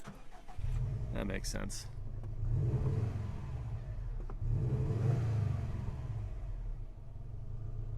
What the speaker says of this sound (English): I should probably just start the car